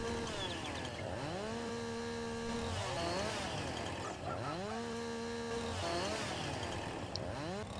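A chainsaw revs and idles in Farming Simulator 19, its engine whine rising and falling in repeated surges, loud and close, with a steady buzzing drone underneath.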